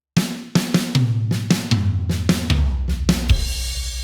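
A drum fill starts on the snare and steps down through the toms, a quick series of close hits falling in pitch and ending on a low tom with cymbal wash ringing out.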